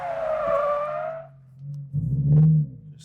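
Car skidding through an e-brake turn entered in second gear: a tire squeal sweeps downward and fades, then the engine rumbles and swells as the car pulls away, with no talking.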